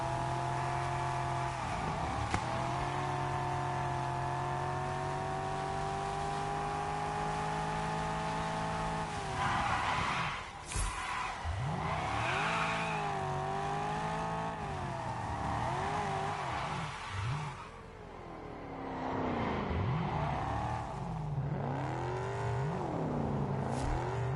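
A Porsche engine drones steadily and then revs up and down through gear changes in the racing video game Test Drive Solar Crown, loud and close with no talking.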